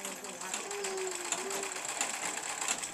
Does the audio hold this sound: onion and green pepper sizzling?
no